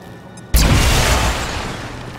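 A single loud explosion in the video game XCOM 2 bursts suddenly with a heavy boom, then a rumbling, crackling tail that slowly fades.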